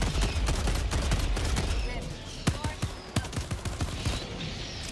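Video game gunfire crackles in a loud fusillade, bursts of rapid shots under a steady roar, sharp distinct reports growing more separated in the second half.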